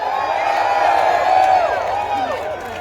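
A large outdoor political rally crowd in Seattle cheers and whoops in a loud, sustained roar, with scattered clapping mixed into the continuous noise.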